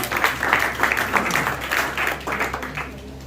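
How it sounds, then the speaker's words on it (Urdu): Audience clapping fills a hall at a Pakistani Independence Day community gathering in a London community centre, a few seconds of dense, moderately loud applause that thins out toward the end. "تالیاں بجائیں بھی، تالیاں بجائیں"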